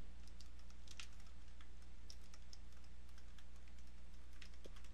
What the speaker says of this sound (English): I'm just typing in password as a password.